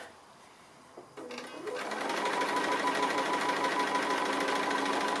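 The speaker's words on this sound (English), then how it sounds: "So just free motion stitching" Domestic sewing machine doing free-motion quilting on a tree appliqué, starting after a brief click and quiet and then running into a steady, loud, close mechanical whir with a rising motor tone, continuous to the end with no talk.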